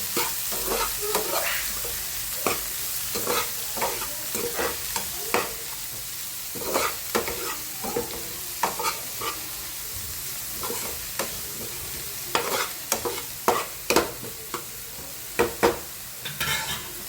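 Chopped green onions with a pinch of asafoetida sizzle in a pan while a spatula stirs them in regular scraping strokes over a continuous frying hiss, close and fairly clear; no one speaks.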